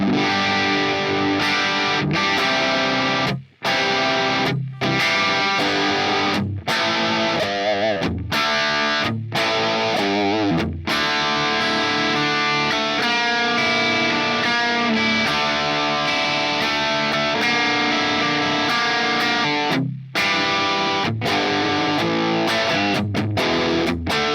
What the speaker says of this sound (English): I try to set this amp up so that it gives me that right amount of distortion and grit